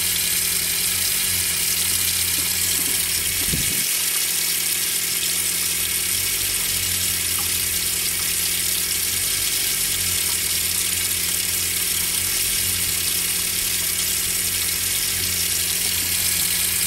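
Water runs through the outside shower of a Roadtrek camper in a steady, unbroken hiss. There is a low hum underneath and one brief thump early on, with no voices.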